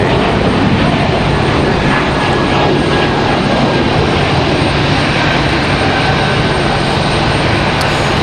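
A Breeze Airways airliner taking off at Raleigh-Durham airport, a loud continuous engine roar filling the whole stretch, steady and near with no voices.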